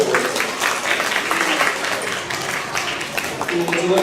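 Children and adults at a church children's Holy Spirit camp revival service clap together in a thick, lively burst of applause that stays loud for several seconds, with some voices mixed in near the end.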